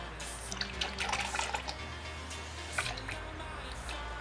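Transmission oil trickles and drips as it pours into a 2006–2014 Honda Ridgeline, a faint, close liquid gurgle with irregular small splashes over a low steady hum.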